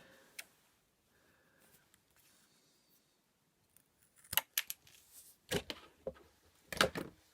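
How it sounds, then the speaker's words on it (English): Scissors snip through a small piece of woodcraft material in a workshop, a few crisp cutting clicks arriving in short bursts after a quiet stretch, close and fairly faint. "scissors again."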